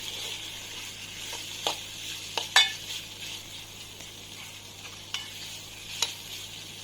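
Boiled cluster fig pieces are stirred into hot tempering: a quiet, low sizzle broken by a few sharp, close clicks and scrapes of a spoon against the pan.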